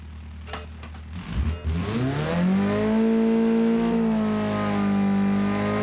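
A BAJA competition off-road car's engine cranks with a few clatters, then catches and revs up into a loud, steady droning idle heard close from inside the cabin.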